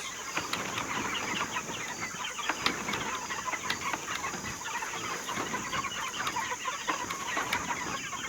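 Meat chickens cluck steadily in a busy flock, with scattered soft squawks and the occasional flutter of wings, close by and continuous.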